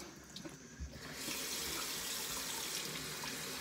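Hot water runs steadily from a tap, a broad rushing hiss that starts softly and swells to a full, constant flow after about a second.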